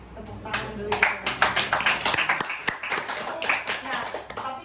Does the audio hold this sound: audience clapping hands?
yes